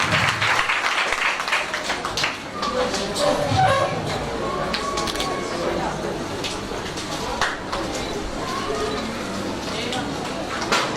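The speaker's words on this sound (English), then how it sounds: "Please clap as they collect their awards." A primary school induction ceremony audience claps for students collecting awards, a continuous crowd of hand claps of fairly even loudness with some voices in the background.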